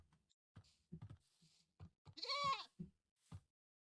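Goats bleating in a video game, a few short, quiet bleats scattered among soft knocks and thumps, with one longer wavering cry in the middle.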